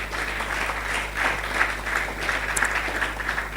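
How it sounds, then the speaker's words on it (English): A leadership and business conference audience applauds its speakers, a steady, moderately loud wash of clapping over a constant low electrical hum. "Please, a warm round of applause again for all our speakers."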